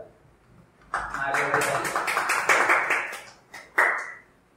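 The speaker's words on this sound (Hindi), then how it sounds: "उनका जोरदार ताली से स्वागत करेंगे अंकिता ओझा।" Audience in a college hall clapping to welcome a guest, a burst of dense applause for about three seconds, then a brief second flurry.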